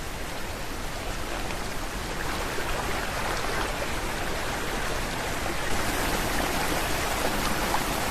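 River water bubbles and rushes over a low, shallow riverbed in the Scottish wild, a dense steady wash of noise with no voices.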